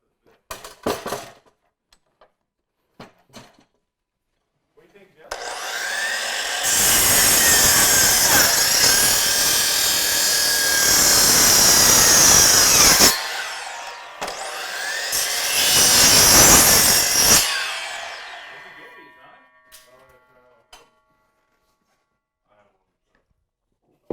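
A handsaw cuts through 2x4 lumber into 48-inch lengths: two long stretches of steady rasping strokes, close and loud, separated by a brief pause, with a few knocks before and after.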